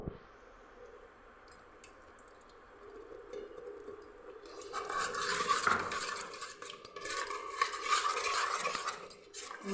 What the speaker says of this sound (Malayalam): നമുക്ക് ഇളക്കിക്കൊണ്ടേ നിൽക്കാം